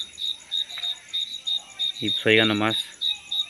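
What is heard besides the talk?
crickets chirping at night in La Huasteca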